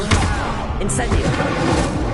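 A fire spell (Incendio) is cast in the video game Hogwarts Legacy, making a loud, dense burst of crackling, whooshing noise that runs the whole moment.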